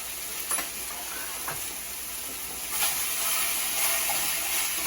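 Carrots, onions, garlic and bay leaves cooking in a pot for Guinness stew, a faint, steady sizzle with a few light ticks and a slight rise in hiss toward the end, no talking.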